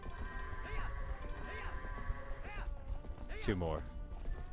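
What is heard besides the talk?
horse hooves clip-clopping in a video game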